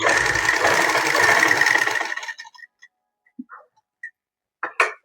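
Sewing machine stitching the neckline of a ladies' kameez runs with a fast, close mechanical whir for about two seconds, then stops, leaving scattered small clicks and handling noises.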